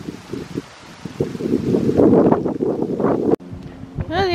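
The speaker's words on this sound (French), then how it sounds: "au départ il y a du vent" Wind blowing outdoors on a bright day along a small country road lined with olive trees, a steady rushing buffeting that swells and stays fairly loud, then cuts off abruptly near the end.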